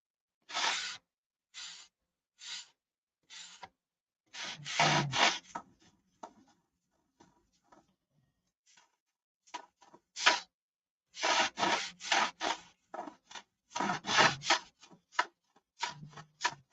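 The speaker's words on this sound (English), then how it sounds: "I'll sand on the side of this a little bit and try to bring it close." Hand sanding the bottom skin of a wooden board, short rasping strokes in bursts with pauses between, fairly close and moderately loud, no talking.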